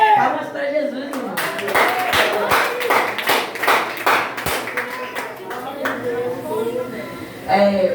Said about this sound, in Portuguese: Palmas para Jesus, irmão.